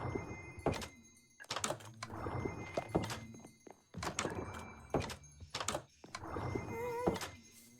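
In a Minecraft game, a door is opened and triggers a note block, producing a short, bright chime near the end among soft wooden door thunks and footstep clatter.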